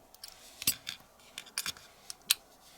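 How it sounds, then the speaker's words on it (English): Scissors snipping squares out of plastic canvas to fit a snap onto a crochet project; a few sharp, separate cuts spaced across a quiet moment, close and clear, no talking. "I'm going to cut out some of the squares"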